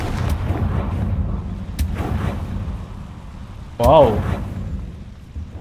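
A Confringo fire spell explodes in Hogwarts Legacy, a short bright burst near the end rising over continuous game background noise, with a voice briefly exclaiming at the moment of impact.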